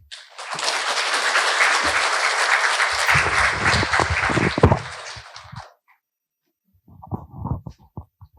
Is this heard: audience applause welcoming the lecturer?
yes